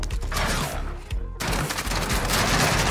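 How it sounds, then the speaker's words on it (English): Shotgun blasts in Warzone, several loud punchy shots with mechanical pumping and clacking between them, a short gap partway through, close and dominant. "let's check out this bog shotgun"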